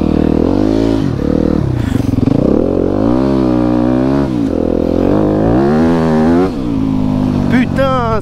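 An enduro motorcycle labours through sticky, greasy mud after a storm. The engine is loud and close, its pitch rising and falling as the rider revs and the tyres struggle for grip.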